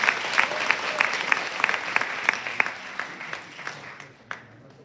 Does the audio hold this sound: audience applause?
yes